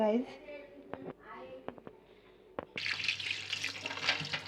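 Cut potatoes being rinsed in a strainer basket under a running kitchen tap for Bengali piyaji, water rushing and splashing steadily in the second half after someone speaks over a few clicks.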